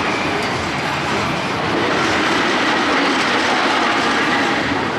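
The Thunderbolt roller coaster train at Six Flags New England rumbles along its track, running slowly as a single train. The loud, steady clatter and roar stays close throughout, and no voices cut through it.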